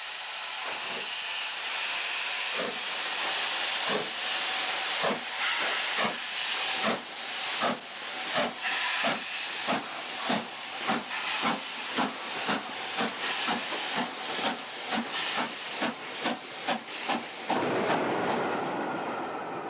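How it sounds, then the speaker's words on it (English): Steam locomotive Duchess of Atholl, a Stanier Pacific, eases a train away south, loud steady hiss of steam with a rhythmic series of sharp exhaust beats that quicken over about seventeen seconds before a continuous roar takes over. "Right away, and Duchess of Atholl eases the train south."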